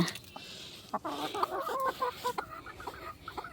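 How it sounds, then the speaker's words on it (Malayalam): Hens cluck in short, irregular bursts close by, with a call from a black rooster emerging from the coop, over a soft farmyard background. "കരിങ്കോഴി പൂവനെ ഇതോ ഇറങ്ങി വരുന്നു കൂടിനകത്തു നിന്നൊക്കെ"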